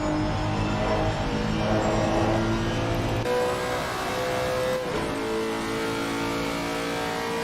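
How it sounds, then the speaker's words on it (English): Onboard engine sound of a race car in the PanAm Racing game during a 3-hour endurance race at Spa: a loud, sustained rev that shifts pitch twice as the car changes gear, alone without talk. "sounds a lot more aggressive in this car when you go with the onboard."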